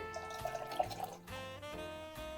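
Minty green eggnog with rum, vodka and mint Kahlua pours into a glass in a short, close liquid trickle over a steady tonal background.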